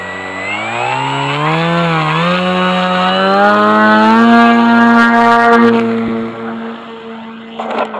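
A small drone's 900 kV brushless motor and propeller run up under throttle, giving a loud, steady buzzing whine whose pitch rises and holds for several seconds before dropping away near the end.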